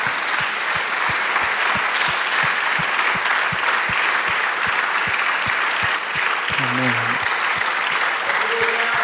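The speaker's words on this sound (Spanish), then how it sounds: "dale un aplauso al Señor" A church congregation applauds steadily throughout, with a regular low thump, like a drum or rhythmic beat, running underneath. A brief voice surfaces near the end.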